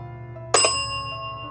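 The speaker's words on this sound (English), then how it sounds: "Cross these or ring the bell." A single bright ding of a bell at a hotel, struck once and left ringing with a long, slowly fading tone over a low background hum.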